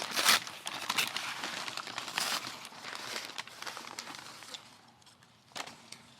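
Plastic wrapping around a potted plant crinkles and rustles as it is carefully pulled open, in several close, loud bursts with quieter gaps between them.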